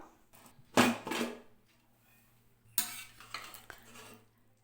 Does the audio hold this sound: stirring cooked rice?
yes